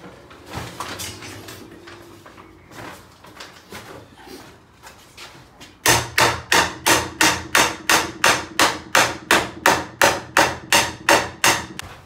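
Sharp hammer taps on a cedar-clad wooden door, a few scattered knocks at first, then a steady rapid series of about a dozen loud, evenly spaced strikes.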